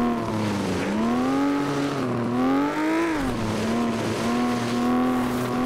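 Race car engine droning and rising and falling in pitch, with tire noise, in the racing video game FlatOut. The car has a strong, fast engine. The sound is loud, close and continuous, with no speech.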